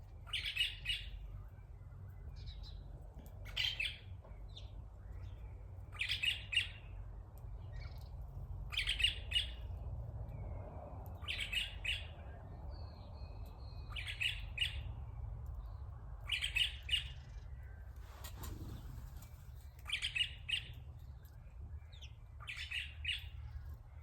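A red parrot calling from up in a tree, repeating loud, sharp squawking calls in bursts every couple of seconds over a low steady outdoor rumble.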